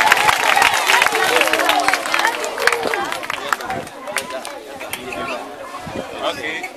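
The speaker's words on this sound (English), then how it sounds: "a loud applause for all that we do" A student body welcomes a guest to a football jersey presentation with loud, sustained applause and crowd chatter, dense clapping filling the room throughout.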